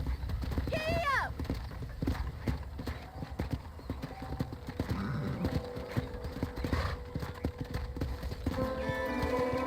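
Galloping horse hooves in a Red Dead Redemption ranch scene, a steady rapid clip-clop rhythm running close throughout, with a horse whinny early on and a man calling out over the hoofbeats.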